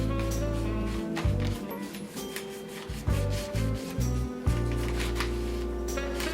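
A paintbrush strokes paint onto a small wooden winter door tag in quick, close, scratchy rubbing passes, some longer and some shorter, with brief pauses between strokes.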